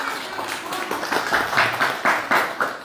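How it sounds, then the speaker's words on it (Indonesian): Audience clapping at a Ramadan welcome gathering in a hall, arriving in uneven bursts that swell and fall with a loose rhythm, fairly loud and close with a faint voice underneath. "Tepuk tangan."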